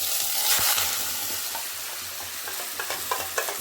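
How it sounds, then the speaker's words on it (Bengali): Whole cumin seeds sizzle loudly in hot oil, a dense bright hiss with small popping crackles scattered through, close and uninterrupted. "তেল গরম হয়ে গিয়েছে, এখন এর মধ্যে গোটা জিরে দেওয়া হলো।"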